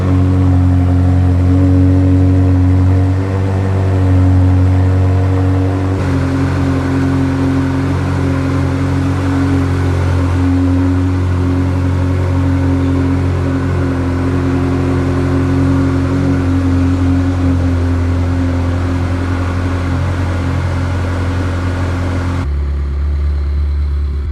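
A Ferrari F430 engine runs steadily close by after a cold start, a loud, even mechanical drone with a strong low hum and slight shifts in pitch, cutting to a lower tone near the end.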